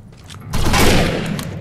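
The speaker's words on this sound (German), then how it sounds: "Profilaktische Granate entgegenwerfen." A grenade blast and gunfire in the shooter game Defiance during a PvP match at a train station: a muffled boom swells up after half a second into a dense, sustained roar of shots that slowly fades.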